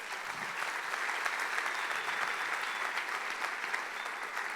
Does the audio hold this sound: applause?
yes